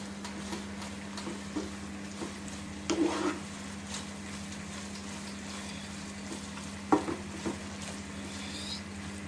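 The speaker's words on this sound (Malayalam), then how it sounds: "കുറച്ച് കറിവേപ്പില തൂളി ഇടുക. എന്നിട്ട് ചെറുതായിട്ടൊന്ന് മിക്സ് കൊടുക്കുക." Goat brain masala being stirred in a pan with curry leaves, Kerala style, a soft low sizzle under a steady hum, broken by a few sharp scraping and clattering stir strokes.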